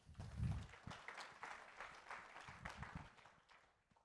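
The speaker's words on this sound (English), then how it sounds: "Give Andrew a round of applause" Faint, distant clapping from a conference audience after a card trick on stage, light and scattered, tapering off toward the end.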